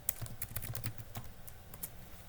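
Quick, close typing on a computer keyboard, a dense run of light key clicks and taps that continues steadily for a couple of seconds with no talk.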